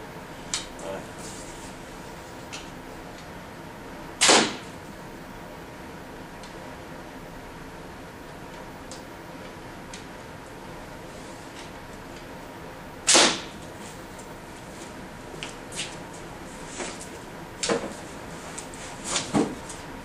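Archery practice with a bow, carbon arrows including an Easton 2117 and a Carbon Express: a few sharp, isolated clacks and snaps of nocking and release spaced seconds apart over a quiet, faintly hissy background, with small handling ticks between.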